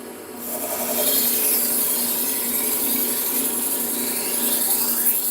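A knife blade is drawn over a Trizac A30 600-grit abrasive to refine its edge, giving a steady close rasping scrape that runs continuously without talk.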